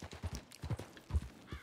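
Horse hooves clip-clopping at a steady gait across rough, off-road terrain in the Red Dead Redemption 2 video game, the rhythmic thuds close and moderately loud with no talk over them.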